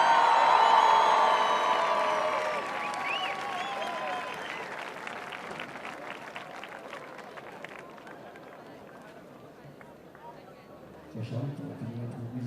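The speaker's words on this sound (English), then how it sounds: "Un tonnerre d'applaudissements s'il vous plaît pour Charlotte Durif." Loud crowd applause with cheering greets Charlotte Durif from Briançon, a member of the French team, at a live show. The clapping swells at the start, then slowly thins and fades, and a few voices come in near the end.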